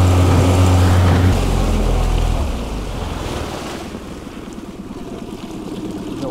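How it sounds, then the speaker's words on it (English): A Wright Water 12 skiff running at full throttle around 21 mph, with a loud, steady roar of engine and hull rushing through water, heavy wind buffeting the microphone, easing slightly after the first couple of seconds. "We're full throttle, 21 miles an hour."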